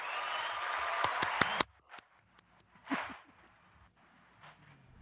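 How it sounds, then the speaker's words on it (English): Applause from a banquet audience at a National Federation of the Blind gathering, a few sharp close claps and a short burst of clapping that quickly fades, followed by quieter room noise. "James, I think we need some applause, don't you?"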